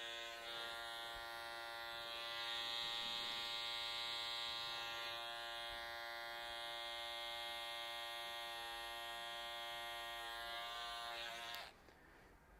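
An electric hair trimmer hums steadily and close while its blade works around the ear during a two-block haircut, a continuous buzz that cuts out abruptly near the end.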